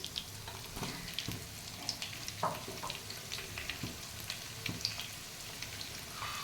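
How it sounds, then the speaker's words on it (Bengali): Potato pieces fry quietly in hot oil in a home kitchen, with a soft, steady sizzle and scattered faint pops and crackles throughout. "ওর মধ্যেই আমি আলুগুলো ভেজে নেব।"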